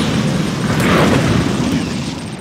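Bombing-run explosions in Command & Conquer 3 roll as a loud, continuous roaring blast with no break, heavy and close, swelling slightly midway before easing.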